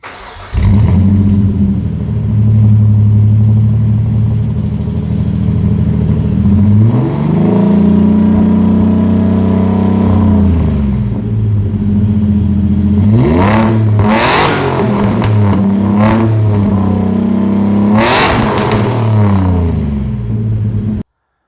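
A supercharged Opel Rekord engine breathes through a freshly MIG-welded custom exhaust, idling loudly up close and then revving repeatedly in rising and falling sweeps with sharp blips near the end before cutting off.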